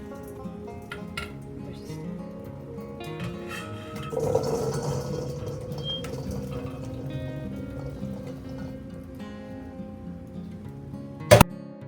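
Blueberries are washed under running water, making a steady splashing flow with occasional clinks of a bowl, close and moderate, with one sharp knock near the end and no talk.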